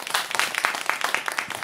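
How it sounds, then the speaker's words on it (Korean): A group in a senior singing class claps together, with rapid individual hand claps standing out as a lively, fairly close patter through the short stretch. "박수"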